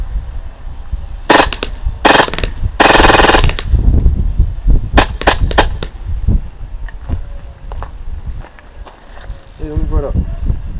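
An airsoft MP9 A1 submachine gun by B&T/KWA fires several short full-auto bursts of sharp rattling clicks, close and loud, followed by scattered single snaps and handling noises.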